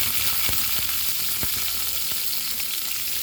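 Mustard seeds, cumin, garlic and onion fry in hot oil for tamarind gravy with a dense, loud sizzle and several soft popping crackles, close up with no voices.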